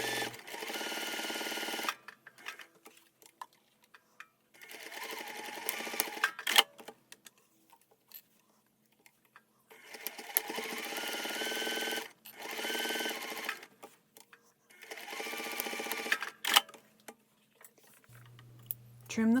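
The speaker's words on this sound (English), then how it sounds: "stitch along the sides and the bottom" A sewing machine stitches a bag pocket with a 1/4 inch seam allowance, running in four short bursts of quick, even whirring separated by pauses with light handling clicks and no talk.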